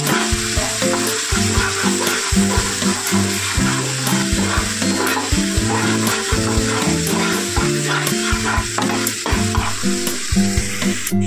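Spice masala with cumin, coriander powder, garam masala and a splash of water being sautéed in a pan: a loud, continuous sizzle close by, overlaid with rhythmic scraping of a spatula stirring.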